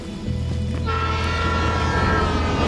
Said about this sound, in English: There's a train down here.